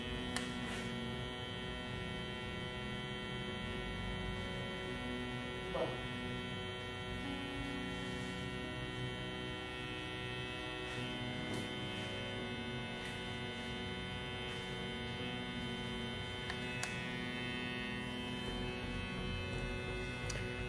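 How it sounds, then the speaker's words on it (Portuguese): A WMARK NG108 cordless hair clipper runs at high speed, a steady, even electric buzz with a constant whine that holds unchanged for about twenty seconds, close and moderately loud, with a few tiny clicks. "A máquina já tá ligada aqui, querendo ou não, já vai descarregando um pouquinho a bateria"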